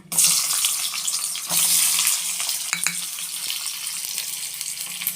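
Chopped onion frying in a tablespoon of hot oil in a heated pan, a dense continuous sizzle with brief clatters of stirring, loud and close with no talking.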